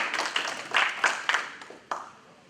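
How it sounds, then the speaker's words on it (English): Conference audience clapping for an introduced speaker, a short burst of scattered applause that swells and then thins out into a few last claps, with no voices over it. "Let's give him a big round of applause for EFCC"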